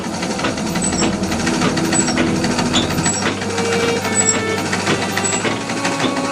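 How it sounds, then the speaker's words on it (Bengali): A machine runs steadily late at night, a continuous close whirring and rattling drone with a high mechanical whine and no breaks. "এখনো পর্যন্ত মেশিন চালিয়ে যাচ্ছ?"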